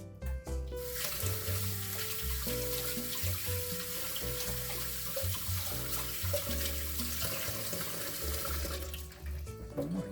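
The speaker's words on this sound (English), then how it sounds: "I'm going to wash up my hands." A kitchen sink tap runs steadily as hands are washed beneath it, water splashing and shifting in a close, continuous flow for about ten seconds, with no speech.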